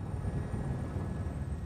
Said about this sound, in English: helicopter is given the all-clear to land